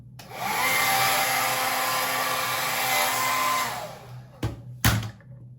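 A hair dryer blows steadily and loudly on a lace front wig for several seconds, then cuts out, followed by a couple of brief knocks and handling sounds.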